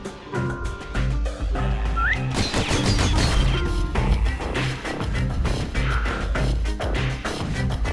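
Stylized pistol shots in the video game Bastion, loud sharp cracks and whooshing whistles layered over a dense musical score, with repeated impacts and a rising whistle near the middle.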